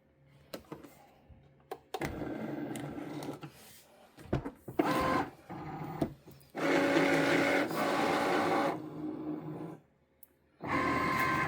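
A Cricut cutting machine loads a sheet of iron-on vinyl, giving close mechanical whirring and buzzing bursts of motor feed separated by brief pauses, with no talk.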